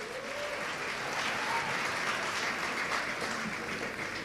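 A large audience at a university student services awards ceremony gives sustained, even applause for the student buddies, a dense wash of clapping filling the room from start to finish.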